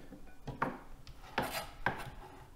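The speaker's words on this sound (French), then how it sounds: "Ensuite j'ai plus qu'à faire des belles lamelles et puis des petits carrés comme ça." Pancetta being cut with a knife on a board into strips and small cubes: a few quiet, spaced chopping taps and scrapes with soft rubbing between them, no voices.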